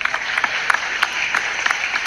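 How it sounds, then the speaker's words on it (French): Applause sound effect produced by an AI sound generator, a thin, steady patter of clapping with sharper individual claps standing out at irregular intervals, fairly close and on its own. "J'obtiens bien mes sons d'applaudissements."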